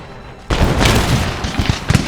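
A musket volley in Empire Total War, a sudden loud crackling burst of massed gunfire that rolls on for over a second with ragged booming peaks, close and dense.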